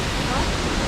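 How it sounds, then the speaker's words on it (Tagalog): Mother Falls at Ditumabo near Baler, roaring close by as a dense, steady rush of falling water that fills the whole moment without a break. "Dito tayo sa Mother Falls, boys, girls."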